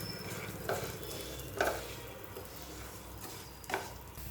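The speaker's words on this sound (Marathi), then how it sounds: "हे तुपामध्ये भाजून घ्यायचे आहेत" Rice roasting in ghee in a pan gives a soft steady sizzle, punctuated by three distinct scrapes of a spoon stirring against the pan at irregular intervals.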